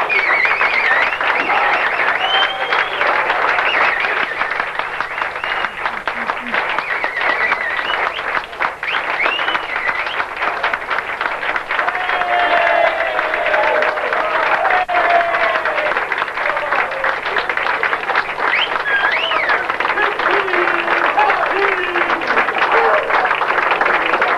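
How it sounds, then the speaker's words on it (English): Wedding guests give sustained applause as the bride and groom enter, a loud, dense, unbroken round of clapping lasting over twenty seconds, with murmured voices and occasional cheers mixed in. "Let's give them a round of applause as they come through."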